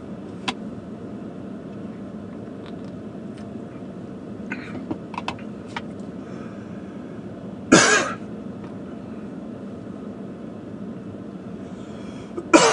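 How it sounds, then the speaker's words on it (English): Two sharp coughs, one partway through and another at the end, over a steady low hum of a car interior while driving in Lexington, Kentucky. "Excuse me for the cough"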